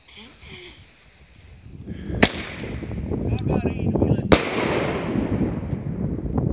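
A Vymetnica Gold Crown firework goes off outdoors on a windy night, with two sharp, loud cracks a couple of seconds apart followed by a rushing crackle amid strong wind noise.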